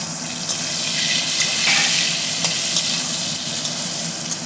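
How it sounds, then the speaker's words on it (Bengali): Fried onions and mango cooking in a pan for a bitter gourd chachori, a continuous close sizzle with a brief louder swell of stirring in the middle and a few light clinks. "আমটা একটু নাড়াচাড়া করে মশলাটা দিব।"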